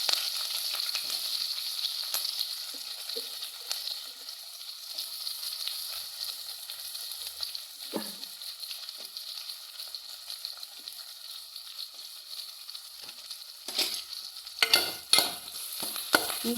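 Ginger, green chili and shallots frying in a pan for a ginger curry: a steady close hiss and sizzle throughout, with a few louder clinks and stirring scrapes near the end, no voices.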